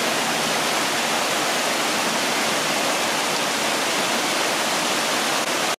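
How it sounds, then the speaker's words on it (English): Steady, broadband rush of the Pigeon River flowing in the Smoky Mountains along the Appalachian Trail, a constant, even roar of moving water with no breaks and no voices. "That's the Pigeon River."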